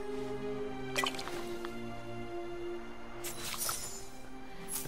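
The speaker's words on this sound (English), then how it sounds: "Let's water it." Watering a freshly planted Dreamlight tree seed by a pond in Disney Dreamlight Valley, giving two soft splashy bursts of droplets with a drip-like squish over a steady musical background.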